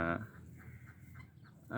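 Chickens and young rooster chicks on a farm, a brief clucking call at the start and another at the end with quieter fowl sounds between, close by.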